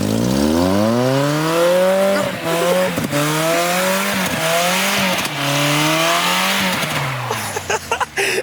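Mazda Miata drifting on a frozen lake, its engine revving hard in repeated rising and falling surges with tire squeal, loud and close, several throttle bursts in a row.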